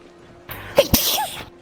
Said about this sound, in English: Cute sneeze.